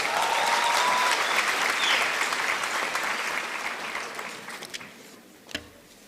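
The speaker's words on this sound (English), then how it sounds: "Come on, give us a round of applause." Graduation ceremony audience in Windhoek applauding steadily, a dense wash of clapping that slowly fades toward the end, with a single sharp clap near the close.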